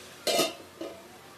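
A pot lid comes off and beetroot thoran is stirred, heard as two short metallic scrapes, the first louder and the second softer, over a quiet background without talk.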